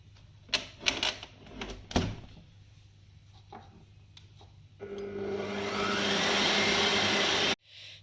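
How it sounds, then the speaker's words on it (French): A stand mixer kneading brioche dough starts up after a few clanks and knocks, then runs with a loud steady whirring motor for several seconds before stopping abruptly. "on va laisser le robot travailler jusqu'à ce que la pâte commence"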